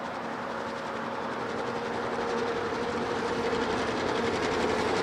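The Royal Canadian Pacific passenger train passes in the Deep South with a steady, continuous rumble and rhythmic clatter of cars on rails, holding loud throughout.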